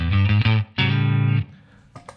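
A 1964 Fender Stratocaster with original pickups through a reissue Fender Deluxe Reverb vintage channel, reverb off: two close, dry chords strummed and cut short, followed by light string noise.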